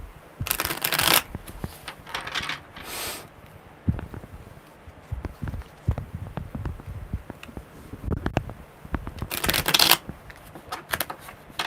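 Crisp riffling bursts of tarot cards being shuffled, repeated several times with short pauses between, close and fairly loud over a quiet room.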